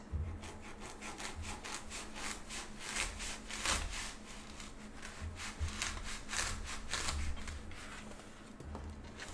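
A blade saws repeatedly through a foam pool noodle, cutting it into 1.5-inch rounds, a steady rhythmic scratchy rasping of back-and-forth strokes, close and moderately quiet with no talking.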